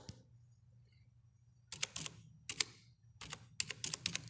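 Typing on a computer keyboard during a computer practical lesson, with quiet pauses broken by short bursts of crisp, close key clicks over a low steady hum.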